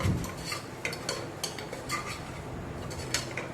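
A spoon clinks and scrapes in a pan while spice masala is stirred and sautéed, with irregular metallic taps over a soft continuous background, close and moderately quiet.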